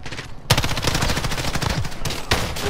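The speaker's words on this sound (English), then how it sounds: "Oh, shotgun." Shotgun fire in Call of Duty: Modern Warfare multiplayer: loud, close blasts start suddenly and come in quick succession, with heavy booming reports and brief dips between shots.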